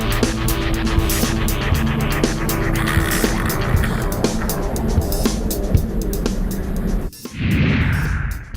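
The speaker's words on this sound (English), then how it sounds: "We're gonna run it about 55 feet. You're gonna stand on it, see what you can do." A truck accelerates hard on a 55-foot baseline test run, its engine roaring loudly and continuously with rising strain before a brief abrupt drop and a renewed burst of noise near the end.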